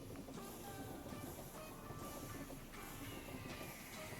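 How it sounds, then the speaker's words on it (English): A train runs along a railway in a video game with a faint, steady rolling rumble and soft clatter that carries on evenly throughout. "Let's go a ride with the train."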